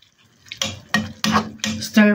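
Kangkong stir-fried in a pan brings four or five scraping, clattering strokes of a utensil against the pan, close and fairly loud, coming in a loose rhythm after a quiet start.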